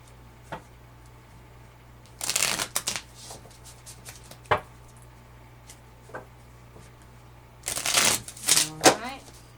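A deck of tarot cards being shuffled and handled up close, with brisk riffling bursts in two main clusters and scattered light taps and card snaps between them.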